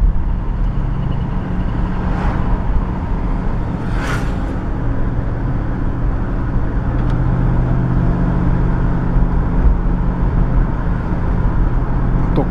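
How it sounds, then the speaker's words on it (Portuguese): A 1982 Ford Landau with automatic transmission runs quietly while driving, its soft engine hum blending with steady road and cabin noise throughout. "Aqui dá pra gente talvez ouvir um pouco do ronquinho, mas ele é muito silencioso, muito silencioso."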